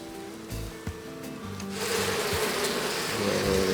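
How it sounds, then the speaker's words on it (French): Honey bees fly into a hive carrying pollen loads, a busy insect buzz close by that swells and thickens in the second half. "vous pouvez voir des abeilles qui rentrent dans la ruche chargées de petites pelotes de pollen"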